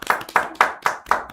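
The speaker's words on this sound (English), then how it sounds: "Let us clap for ourselves" Audience members at a national conversation forum clap in a slow, synchronized rhythm, five distinct loud claps evenly spaced about a quarter second apart.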